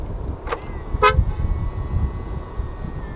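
A 2022 Mercedes-Benz C 200 Avantgarde gives two short horn chirps while locking, spaced about half a second apart, clear and close over quiet outdoor background rumble.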